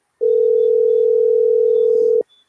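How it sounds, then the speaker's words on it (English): A single steady electronic tone on a phone call, held for about two seconds and then cut off, loud and clean against silence. "I can hear the phone ringing."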